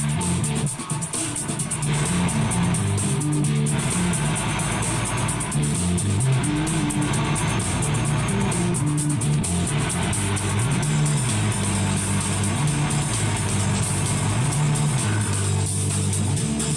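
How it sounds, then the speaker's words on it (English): A truck engine in the video game Euro Truck Simulator 2, driven with a PXN V900 racing wheel, drones loud and continuous, its pitch rising and falling through gear changes over a long stretch without talking. "Now let's jump into some simulation gameplay with this gaming wheel. We will start with the Euro Truck Simulator 2."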